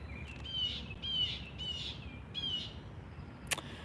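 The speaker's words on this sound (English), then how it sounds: "Effing birds." Birds chirp outdoors in four short bright bursts of repeated tweets, fairly faint over steady background noise, followed by a single sharp click near the end.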